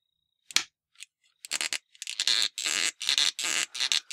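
Close, harsh plastic scraping and snapping in short bursts as tight-fitting Battle B-Daman toy parts are pressed together, gritty and uneven, growing longer and more continuous toward the end.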